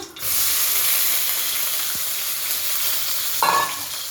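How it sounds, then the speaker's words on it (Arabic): Onion sautés in a pan with a steady, broad sizzling hiss that starts abruptly, joined near the end by a short scraping stir, close and continuous. "ونشوح البصله بتاعتنا"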